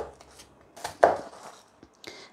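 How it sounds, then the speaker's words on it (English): Knife chopping an onion on a chopping board, several short uneven cuts and taps up close, with one louder chop in the middle and quiet pauses between. "so we're just going to chop our onion from this end to the root end, then peel it."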